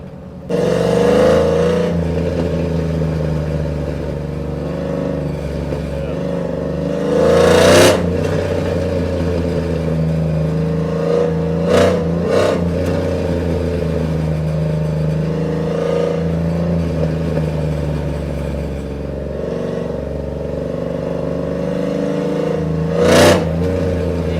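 A deep, rumbling cammed Chevrolet Silverado 5.3L V8 with longtube headers runs loudly and steadily nearby, with several short sharp revs punching through the drone.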